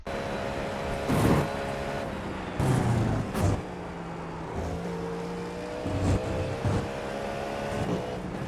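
A GTP prototype race car in iRacing laps the Algarve International Circuit at full speed. Its engine holds a steady high drone, with sharp bursts and shifts recurring across the lap, loud and close, with no voices.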